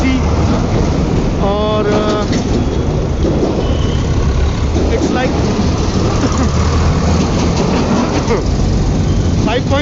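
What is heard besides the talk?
heavy road traffic in Delhi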